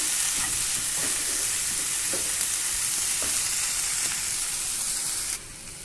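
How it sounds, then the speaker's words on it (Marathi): Moth beans (matki) fry with onions in a pan, giving a steady close sizzle with occasional stirring scrapes, before the hiss drops slightly near the end. "आता त्याच्यामध्ये आपण मटकी घालणार आहे, मटकी पण छान परतून घ्यायची आहे"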